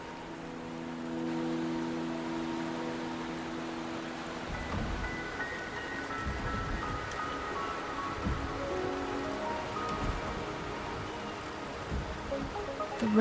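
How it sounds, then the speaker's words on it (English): Steady rain pours down in the Wuthering Waves video game, a dense, continuous patter on surfaces with faint low rumbles beneath and a soft tonal game backdrop. "The rain is subsiding, and the sky will soon clear."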